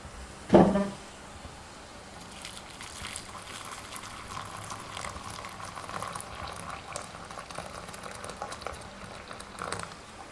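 An electric kettle brings water to a rolling boil: a steady, close bubbling roar that grows fuller and hisses throughout, with a sharp knock near the start and no voices.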